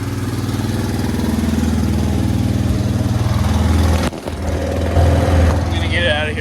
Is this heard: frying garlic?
no